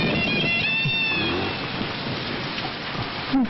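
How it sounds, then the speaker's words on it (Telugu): Steady rain pours down in a nighttime domestic scene, a dense continuous hiss with a brief louder swell near the end; no distinct thunder stands out. "వర్షం వస్తుంది కదా"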